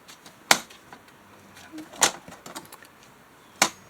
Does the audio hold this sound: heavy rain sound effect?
no